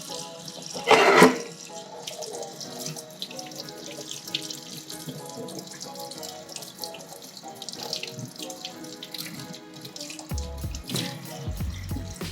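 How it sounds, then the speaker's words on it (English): Tap water splashes and runs while rinsing PVA release agent off a carbon fibre RC wing mold in a workshop. The flow is steady and close, with a louder splash near the start and some knocks toward the end. "Let me hit it with some water."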